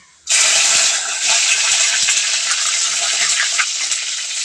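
Dried red chillies dropped into hot oil after mustard seeds have popped, a sudden loud burst of sizzling that holds strong and steady, close by.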